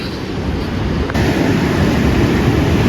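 Ocean surf on the Gold Coast rolls in a steady, loud wash of breaking waves, mixed with wind buffeting the microphone.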